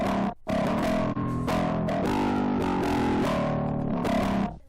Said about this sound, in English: Now the mid band distortion.